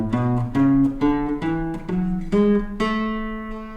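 A guitar plays a major scale, eight or so plucked single notes stepping up at an even pace, ringing close and clear.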